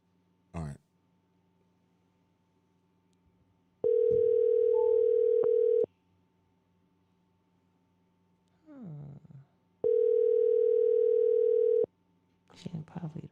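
A telephone ringback tone sounds twice during an outgoing call, each a steady two-second electronic tone separated by a long pause, with faint throat noises and breathing in between.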